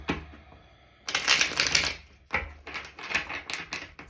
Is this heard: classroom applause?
no